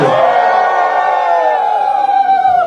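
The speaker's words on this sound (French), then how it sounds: "Applaudissons! Applaudissons! Applaudissons!" A church congregation cheering and shouting together at a Sunday service, a loud sustained crowd roar with voices carrying tones throughout.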